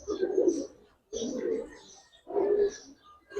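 Pigeons, Giribaz and Pankhi breeds, coo in three low, throaty rolling phrases spaced about a second apart, close by with faint background noise.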